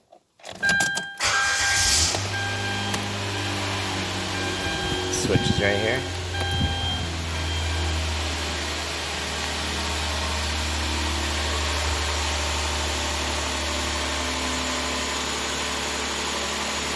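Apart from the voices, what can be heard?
Hyundai Santa Fe engine starting and idling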